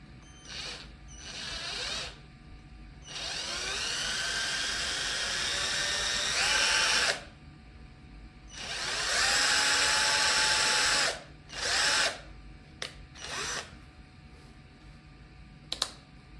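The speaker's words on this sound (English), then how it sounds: "So I'm gonna drill a slight hole with this drill bit" A power drill whirs in several bursts, each a few seconds long, with high-pitched grinding as a 2 mm bit bores a hole in a plastic filament colorizer, separated by short pauses and small clicks.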